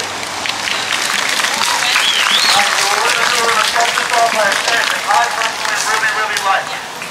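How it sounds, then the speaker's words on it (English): Crowd at a Hollywood march for Breonna Taylor claps and cheers, a dense, steady wash of applause with scattered voices and shouts mixed in, loud and close for the whole stretch. "another round of applause, please"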